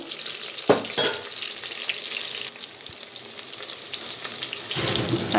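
Onions and green chilies frying in hot oil for sambar, a continuous close sizzle with a few sharp stirring clatters of a spoon against the pan, steady throughout with no voices.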